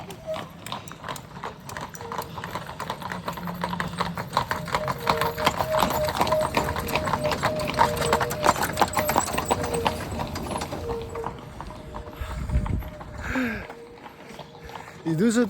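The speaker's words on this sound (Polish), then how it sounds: "Patrzcie, jakie te konie są piękne." Horses' hooves clip-clop steadily on a rocky mountain trail, several animals walking one behind another with a dense, even rhythm, close and clear, while a person talks over them.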